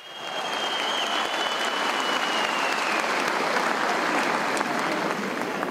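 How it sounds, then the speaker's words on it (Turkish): Sustained audience applause fills a political party candidate introduction meeting in Eskişehir, a dense steady wash of many hands clapping at even loudness throughout, with a faint tone running beneath. "bir kocaman alkış alalım önce"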